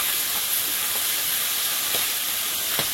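Panch phoron spices sizzle in hot oil over high heat, giving a loud, steady hiss with faint crackles and no voices.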